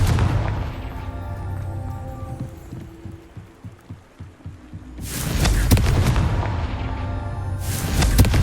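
Two loud, broad Confringo fire-spell blasts in the Hogwarts Legacy video game, one near the middle and one at the end, each rising out of quieter in-game ambience with a lingering rumble.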